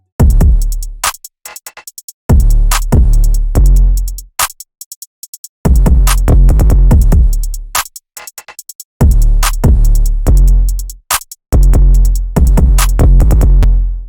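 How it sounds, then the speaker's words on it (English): A punchy electronic drum pattern plays alone, with booming kicks, snappy hits and rapid hi-hat rolls repeating in loud, tight bars separated by brief gaps. "All the drums together sound like this."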